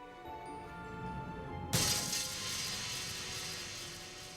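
A safety glass windscreen bursts into tiny fragments with one sudden loud crack, followed by a lingering bright crackling and tinkling as the pieces settle, after a quiet hum beforehand.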